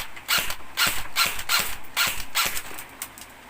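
Semi-automatic shots from a Delta Airsoft M4 RIS airsoft rifle, a run of about eight sharp, evenly spaced mechanical clacks fired in steady succession, close and fairly loud with no talking.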